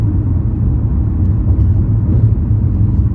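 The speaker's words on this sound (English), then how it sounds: "I apologize for the road noise" Road noise inside a moving car heading home: a steady, loud low rumble and tire roar fills the cabin without a break, with no voices.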